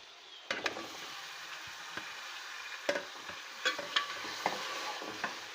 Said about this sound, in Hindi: अच्छी तरीके से हम इसको पहले प्याज में पकाएंगे।